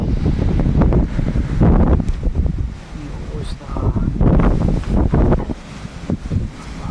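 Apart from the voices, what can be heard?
storm wind blowing through trees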